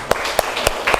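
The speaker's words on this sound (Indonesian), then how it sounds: "Tepuk tangan dulu untuk kelompok 6." Brief classroom applause for a presenting student group, a few sharp distinct claps ringing out over a short moment with light background noise.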